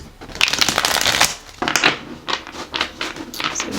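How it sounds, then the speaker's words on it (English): A deck of tarot cards being shuffled by hand in repeated riffling bursts, close and crisp, with short pauses between passes and no talking. "So we'll shuffle one more time."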